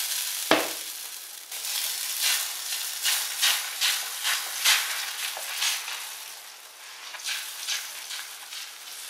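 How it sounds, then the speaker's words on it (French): Crepe batter sizzling on a hot Skeppshult cast iron crepe pan, a steady close frying hiss with soft bubbling pulses that rise and fall, heard alone without talk. "je peux commencer à mettre la première louche de pâte"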